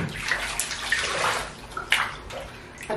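Water splashes and sloshes in a tub as goldendoodle puppies get their first full bath, uneven bursts of splashing and gurgling with brief quieter gaps.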